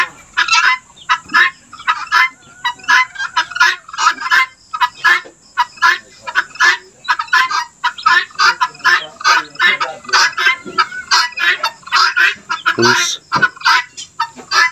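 Fowl that look like chickens or birds call and cluck loudly and close by in dense, overlapping bursts, a continuous busy chorus with no talking.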